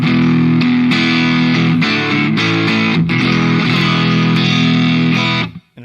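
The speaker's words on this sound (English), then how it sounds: "This one has a distortion in front." Electric guitar played through a Mooer GE300 amp modeler patch with a distortion in front, loud and sustained chords ringing for about five seconds before cutting off, with no talk.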